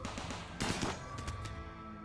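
Gunfire in a RimWorld colony battle, a few muffled shots and thuds in quick succession over a constant background hum, moderately loud with one heavier burst in the middle.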